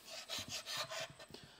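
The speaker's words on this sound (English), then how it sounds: "You see how good of a job that carbide scraper does?" Carbide scraper dragged over rusty transmission metal, a few short rasping strokes in quick succession, soft and close with no talk.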